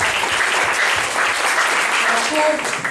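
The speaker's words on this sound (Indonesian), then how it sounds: "Berikan tepuk tangan bagi Tuhan Yesus" Audience at a church seminar in Sentani, Jayapura, Papua, clapping in a dense, loud, continuous burst of applause, with voices mixed in.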